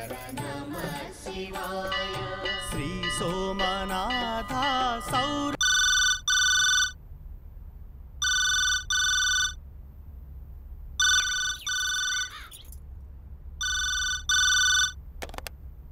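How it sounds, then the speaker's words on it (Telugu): A telephone rings in repeated two-burst electronic chimes in a home, after a stretch of film music, with the rings loud and clear and a brief pause between each pair. "నీకు ఫోన్ వచ్చింది."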